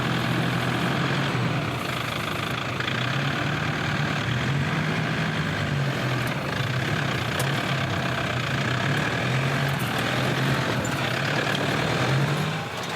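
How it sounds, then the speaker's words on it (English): A Toyota Hilux 4x4 crawling slowly over an off-road obstacle at a club challenge, its engine a steady low rumble held near idle throughout, loud and close with no letup. "Wimpy and the Hilux does a grand job of the first part of the obstacle"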